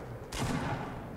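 A shotgun blast fired in the video game Fortnite: one sharp, loud broadband burst that rings out and decays slowly, with no talking.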